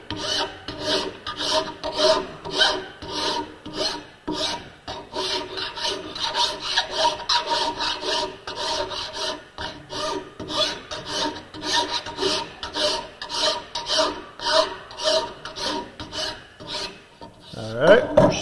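A rasp files down a wooden back scratcher, working diagonally on high spots while avoiding a metal part, in steady rhythmic strokes that rasp loudly and close up, continuing without pause for the full length and with no voices.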